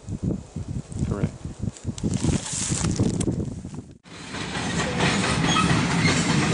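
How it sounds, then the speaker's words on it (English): A train rumbles past on the railroad during a youth hunt in Alabama, a loud rolling clatter of wheels and cars that builds and continues steadily, with brief voices in the outdoor setting early on. "we got caught by the train"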